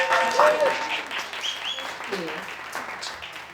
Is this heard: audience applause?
yes